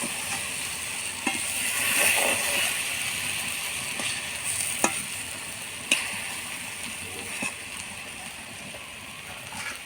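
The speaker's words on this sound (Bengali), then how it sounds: "এবার আস্তে আস্তে নেড়ে নেড়ে একটু শুকনো করে নেব।" Thickened raw mango pickle is stirred slowly in a pan, a steady bubbling sizzle running throughout with occasional scraping clicks of the spoon against the metal, close and continuous.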